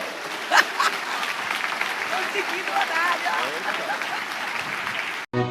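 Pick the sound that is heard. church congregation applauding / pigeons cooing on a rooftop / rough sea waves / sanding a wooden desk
church congregation applauding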